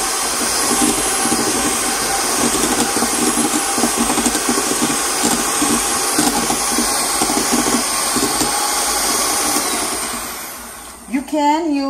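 An electric mixer creams butter in a bowl for a tres leches cake, a steady loud whirring drone that runs nearly the whole time before cutting off near the end, with faint voice traces underneath.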